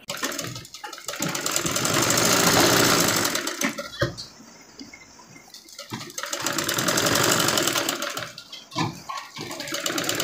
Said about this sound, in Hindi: अब दूसरी साइड भी सेम वैसी ही तरीके से सिलाई लगा लेनी है।